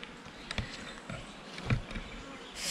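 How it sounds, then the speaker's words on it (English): Bees buzz faintly outdoors in calm, dry weather, a low continuous drone with brief louder passes as insects fly near the microphone. "the bees are enjoying the"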